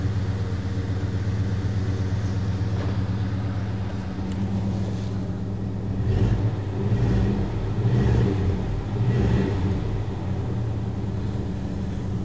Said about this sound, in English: Gotta love the sound of the Ford FE V8s